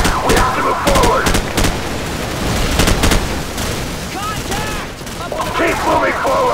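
Sustained gunfire aimed at a building during a battle near a bridge: rapid bursts of rifle and machine-gun shots, loud and close, with several sharp cracks, while soldiers shout over the firing.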